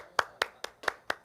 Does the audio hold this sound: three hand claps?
yes